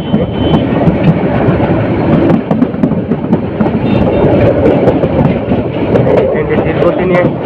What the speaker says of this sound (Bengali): ট্রেনটি ধীর গতি নিয়ে স্টেশনে প্রবেশ করছে।